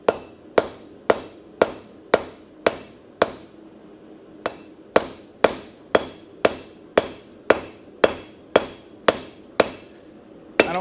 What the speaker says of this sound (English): I'm trying to just forge it in